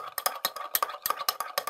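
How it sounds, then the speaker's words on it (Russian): A spoon rattles rapidly against the sides of a glass in quick, rhythmic clinks while egg yolk and water are stirred, close up and with no talking. "Взять ложку и тщательно размешать,"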